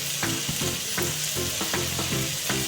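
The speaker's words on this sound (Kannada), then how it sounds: "ಸ್ವಲ್ಪ ಟೊಮೆಟೊ ಫ್ರೈ ಹಾಕೊಂಡು ಉಪ್ಪು ಹಾಕೋತೀನಿ ರೀ, ಅಂದರೆ ಜಲ್ದಿನ ಫ್ರೈ ಆಗ್ತಾವ್ರಿ" Onion and tomato fry in a pan with a steady, close sizzle, punctuated by regular scraping clicks of stirring.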